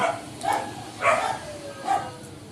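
A dog gives a few short barks and yips, spaced apart, fairly close, with faint background noise between them.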